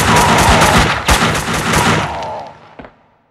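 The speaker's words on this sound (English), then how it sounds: "Someone must have heard the gunfire." Loud gunfire from Max Payne 2 on PS2: rapid overlapping shots and bursts crowd the first two seconds, a few heavier blasts punch through, then the shooting tails off into a fading echo.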